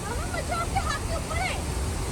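A waterfall near a wooden bridge roars as a steady, loud rush of falling water, with a voice talking over it.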